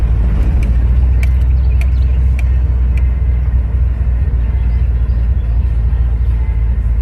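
A truck with a Holley Sniper EFI and an overheating transmission climbs a steep hill at light throttle, a loud, steady low engine rumble with road noise droning continuously throughout.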